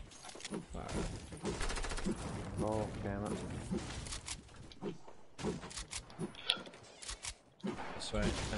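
Fortnite gunfire crackles in dense bursts throughout, with rapid shots layered under near-constant talk from players over voice chat.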